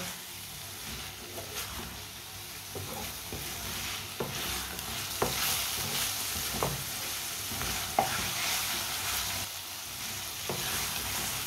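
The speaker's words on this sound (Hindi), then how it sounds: "1 मिनट के लिए तेज आंच पर भून लेंगे।" Spices and coriander roasting over a high flame, a steady loud sizzle with scattered stirring scrapes and clicks throughout, no voices.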